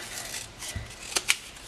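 Card stock being cut with scissors along a scored line while making a gift box lid: a few soft snips ending in two short, crisp cuts, close and quiet, with no talking.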